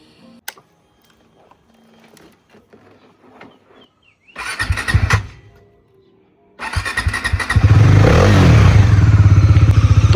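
Bajaj Dominar motorcycle engine cranks in a short burst, pauses, then catches and settles into a loud, steady close idle, with faint handling clatter beforehand.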